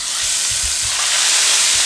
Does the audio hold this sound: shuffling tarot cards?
no